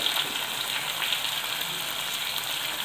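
Chopped tomatoes sauté in a pan with softened onions for a fried fish gravy, giving a steady, even sizzle and hiss that continues without break.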